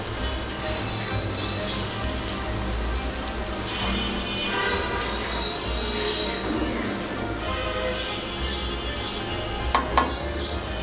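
A bay leaf fries in hot oil for a garlic and green chilli pickle, giving a steady, close sizzle throughout, with two brief sharp clinks near the end.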